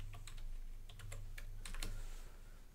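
Quiet keystrokes on a computer keyboard at a kitchen table, several quick irregular taps over a low steady hum, with no voices.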